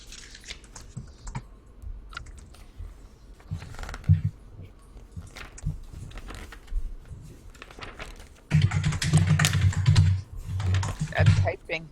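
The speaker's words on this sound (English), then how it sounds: "That's typing." Rapid typing on a computer keyboard during an online tabletop roleplaying session, clattering on and off and growing louder and busier near the end, with voices chatting faintly at times.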